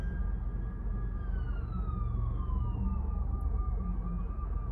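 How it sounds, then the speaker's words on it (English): A distant police siren wails with a slowly falling pitch over loud low rumbling traffic noise, continuous throughout. "I don't know if you guys can hear the sirens."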